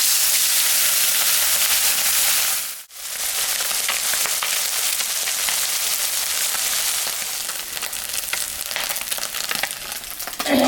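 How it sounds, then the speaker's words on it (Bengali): Small fish salted and turmeric-coated, frying in hot mustard oil in a kadai, a loud continuous close sizzle with a brief dip near the start, then steady bubbling hiss and faint crackle, no voices. "মাছটা এখন আমি ভাজবো।"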